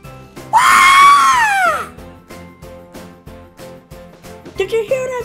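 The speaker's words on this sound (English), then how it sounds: "Did you hear that scream in the woods?" A loud, drawn-out scream rises and falls over about a second and a half in woods, set against a steady rhythmic backing, with a brief voice breaking in near the end.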